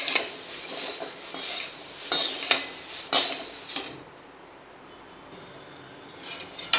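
Roasted poha (flattened rice) is stirred in a pan with a spoon, giving dry scraping and clinking metal strokes in irregular bursts, then a quieter pause before stirring picks up again.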